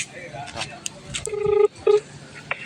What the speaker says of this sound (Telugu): ఫోన్ చేయండి రాకేంద్ర ఫోన్